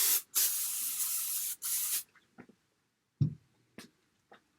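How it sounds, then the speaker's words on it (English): Dry finishing hair spray hisses from an aerosol can in two long close bursts, followed by quiet handling taps and faint clicks. "using a dry finishing spray will be a nice option right now"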